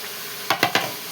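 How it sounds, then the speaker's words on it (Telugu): Potato pieces fry in a pan with a steady close sizzle. Three quick scraping strokes from stirring come in a row, then one more brief scrape, and no one speaks. "ఇవమ్మ బంగాళదుంప ముక్కలు కూడా వేసేస్తున్నాను"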